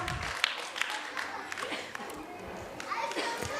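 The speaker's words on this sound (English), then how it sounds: "So give them a huge round of applause please." At a school annual concert, a crowd of parents and children gives a scattered round of applause, with children's voices and chatter mixed in throughout.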